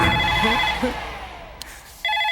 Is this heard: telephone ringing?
yes